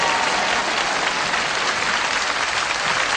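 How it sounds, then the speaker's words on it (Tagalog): Audience applause for Raisa, steady dense clapping from a crowd sustained without a break throughout. "Palakpakan natin si Raisa."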